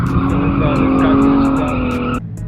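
A Lexus IS300 drifts on a speedway skid pad, its tires skidding in a loud, sustained squeal with engine roar beneath for about two seconds before cutting off abruptly.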